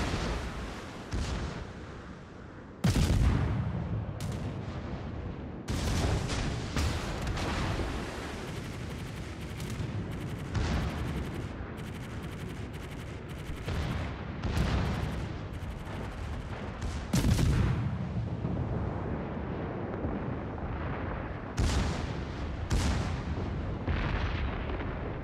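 Warship guns firing in World of Warships, a sustained barrage of heavy booming salvos and explosions with sharp repeated onsets over a rumbling continuous battle din, loud and close, with no talk.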